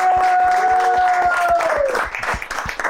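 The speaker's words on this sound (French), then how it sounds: "On peut t'applaudir, Gassen," Applause at a post-fight press conference after an MMA event, a burst of loud clapping and crowd noise with a tonal whistle-like sound, fading toward the end.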